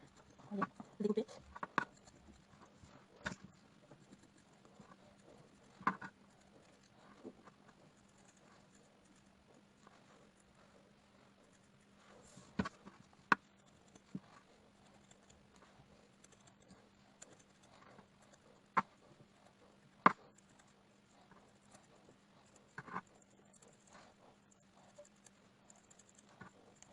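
Scissors snip T-shirt fabric into fringes for a cushion, giving sparse, light cuts and soft taps over a steady low hum, faint and close, with no voices.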